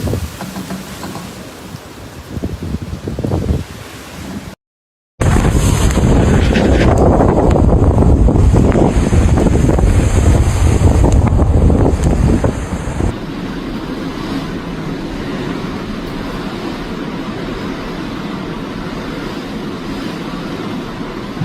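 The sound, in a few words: huge storm waves crashing into seawall, strong wind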